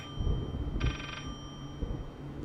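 A single short trill of a ringing telephone in the horror game Layers of Fear sounds over low rumbling ambience and faint thumps, clear but not loud.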